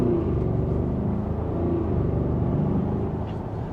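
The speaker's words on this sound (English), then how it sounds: "But we'll do one more acceleration here" A 2026 Audi SQ8, a 500 hp V8 luxury SUV, accelerates in normal mode, its engine a steady, close, low rumbling drone that climbs through the gears with no speech over it.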